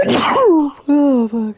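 A single sharp human sneeze bursts out at close range, followed immediately by the same person's short spoken exclamation.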